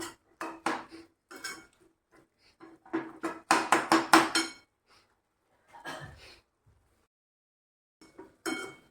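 Spring onion greens being stirred in a pan at home, with spatula scrapes and metal clinks in irregular bursts, loud and close, separated by brief quiet pauses.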